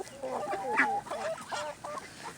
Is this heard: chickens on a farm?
yes